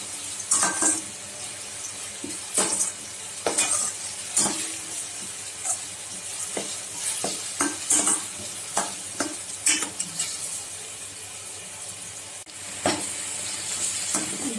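Ginger, garlic and green and red chillies sizzle and fry in a pan for pav bhaji, with repeated stirring scrapes and spoon clinks against the metal in an irregular rhythm, close and steady, no talking.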